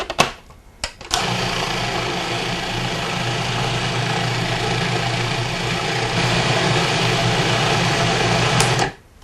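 A food processor whirls a thick nut pâté with extra tahini, running loud and steady for about eight seconds after a brief start, then cutting off, with no talking.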